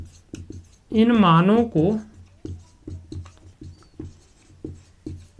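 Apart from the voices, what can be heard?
writing an equation on a board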